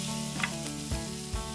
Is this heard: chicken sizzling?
yes